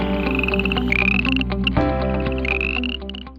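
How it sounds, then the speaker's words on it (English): An upland chorus frog croaks in several rising, ratcheting trills. Each call is close and clear over a steady low background hum. "commonly known as the upland chorus frog"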